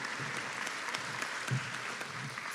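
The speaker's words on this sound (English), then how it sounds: "It's a big round of applause" A crowd at a university graduation ceremony applauds steadily, a dense even clatter of clapping that holds at the same level throughout.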